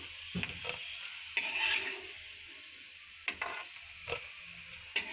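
Radish koftas frying in hot oil in a home kitchen give a soft, steady sizzle, with a few sharp clatters and scrapes of a utensil stirring the pan at close range.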